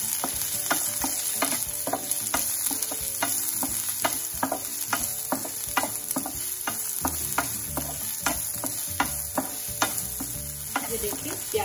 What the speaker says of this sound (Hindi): और ये ऑनियन डाल देते हैं सारे, ये मैंने रख दी चॉप की थी। अब इसको हमें भूनना है।